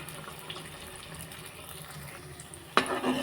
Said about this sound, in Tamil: இப்படி ஆயிலில் நல்லா ஃப்ரை பண்ணிக்கிட்டே இருங்க